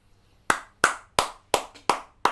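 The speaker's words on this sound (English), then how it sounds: "That's where the applause plays." Six single hand claps ring out one at a time, crisp and close, spaced evenly about a third of a second apart in a quiet room.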